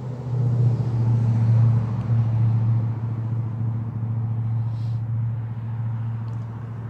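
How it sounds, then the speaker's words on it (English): Steady low rumble of road traffic passing nearby on a busy holiday, a continuous engine drone that swells early and then holds at a loud, even level with no voices. "sorry about all the traffic"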